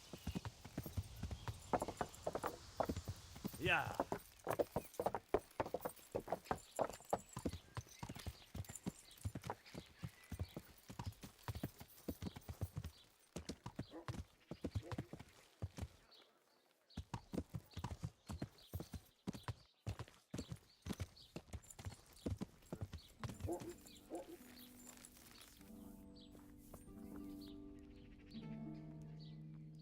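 Hooves of the horse Pebbles in Kingdom Come: Deliverance, a steady rhythmic clip-clop of a walking horse, fairly close, with birdsong around it, a brief pause midway, and a short spoken word and music at the end.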